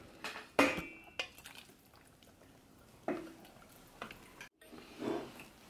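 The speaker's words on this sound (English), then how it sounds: "So I'm just going to put this into my serving dish." Tomato and okra stew made with marinara sauce is spooned into a serving dish, giving a few sharp clinks of a utensil against the pot and dish between quiet scraping, with no one talking.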